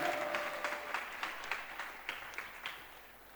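A church congregation applauds during a morning service, with a steady round of clapping that fades gradually, a few louder rhythmic claps standing out near the end.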